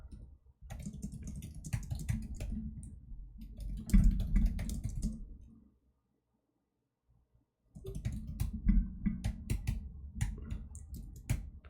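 Rapid typing on a computer keyboard: a close, dense run of key clicks for about five seconds, a short silent pause, then another burst of fast keystrokes, with no talking.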